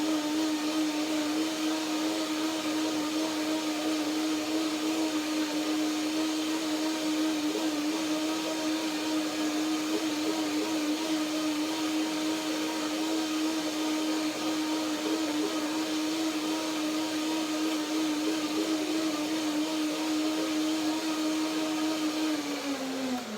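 A blender whirs continuously, blending a ginger, flaxseed and macadamia cream dressing with a steady motor hum that holds at one pitch for over twenty seconds, then winds down at the end.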